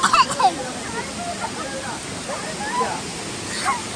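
Ezharakund waterfall rushing in a steady, broadband roar that fills the whole clip, with voices and brief calls rising over it at the start and end.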